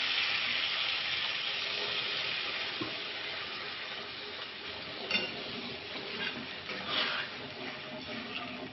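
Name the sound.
water added to sizzling bhetki fish curry in pan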